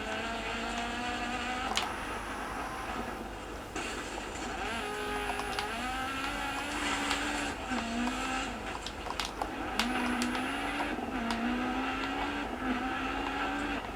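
Rally cars race through a stage in the video game Dirt 4, with engines revving up and down through gear changes, loud and continuous, plus occasional gravel and tire noise, with no speech.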